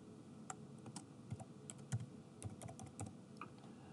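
Computer keyboard being typed on while entering a user ID and password, a quiet close run of light, irregular key clicks over about four seconds with no talking.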